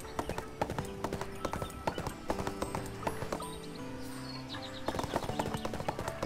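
A horse galloping in the video game ArcheAge, with rapid rhythmic hoofbeats clip-clopping steadily under game music, loud and close throughout.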